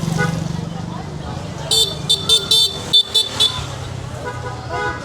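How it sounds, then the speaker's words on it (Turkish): Car horns honk repeatedly on a busy Cebu City street at night, a cluster of short sharp toots and one longer blast over idling traffic noise, with a voice talking nearby. "İlk defa bu kadar mesela bir korna sesi duydum."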